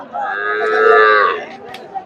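A Sahiwal cow at the Chandaikona cattle market gives one loud, close moo that swells and fades over about a second and a half, with faint crowd murmur behind it.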